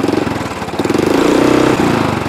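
A Royal Enfield Interceptor 650 motorcycle engine revved up close, a loud steady throbbing idle rising to a higher rev and easing back down, with no talk over it.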